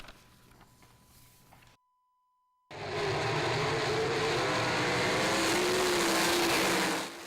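Race cars at Williams Grove Speedway: after quiet ambience and a brief silence, a loud, sustained engine roar swells in, with rising revving tones as cars run around the track.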